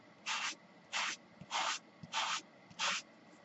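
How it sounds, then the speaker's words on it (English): Sandpaper rubs the top colours off a sheet of designer series paper in five evenly spaced rasping strokes, each about half a second long, close up with quiet gaps in between. "all I'm going to do is just sand off some of the top colors"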